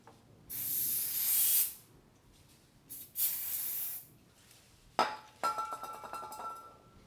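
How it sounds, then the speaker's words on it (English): Short hissing bursts of aerosol suspension cleaner sprayed around a dirt bike fork seal, two long sprays then a clink and rattling handling noises, close and fairly loud. "spray the suspension clean up underneath where the fork seal is"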